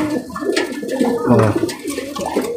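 Male pigeons scuffling in a coop, with close, steady throaty cooing and rustling wing flaps running continuously through the moment.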